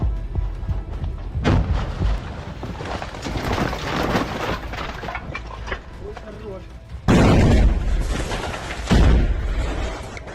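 Grenades thrown into a house burst inside during house clearing by Ukrainian troops, giving heavy booming blasts around 1.5, 7 and 9 seconds over continuous rumbling combat noise, with voices in the background.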